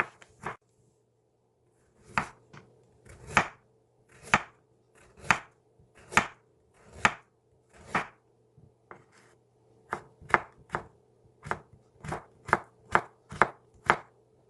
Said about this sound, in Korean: 호박과 당근도 채 썰기를 해주세요.